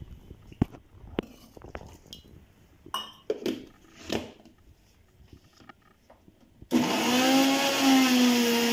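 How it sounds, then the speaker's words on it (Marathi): Quiet kitchen clatter and taps precede a mixer grinder starting up on roasted masala with coriander and water, its loud steady motor whine running to the end. "आता आपण हे भाजलेलं वाटून घेऊया"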